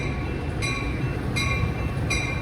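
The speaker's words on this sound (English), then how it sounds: "The next inbound Metro train to Chicago is now arriving in your station." An inbound Metra commuter train pulls into the LaGrange station: a steady low rumble and rolling wagon noise, with a repeating high tonal whine swelling roughly every three quarters of a second, loud and close, with no talk.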